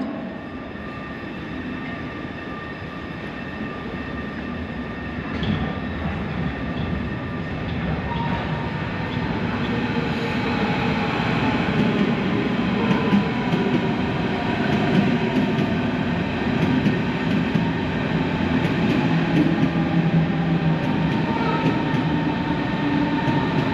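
A Berlin S-Bahn S1 train pulls into a station platform with a steady, loud rumble of wheels and rising motor whine that grows over about twenty seconds, with no talk.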